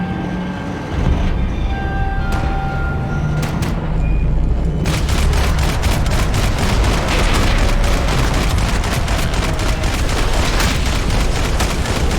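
Gunfire during a Max Payne 3 shootout: a few heavy booms early on, then a dense, sustained stream of rapid, close shots that fills the rest of the clip at high volume.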